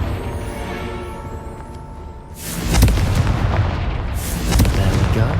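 A fiery spell blast in Hogwarts Legacy bursts loudly after a quieter ambient stretch, followed by crackling booming rumble and a second swell of explosive noise.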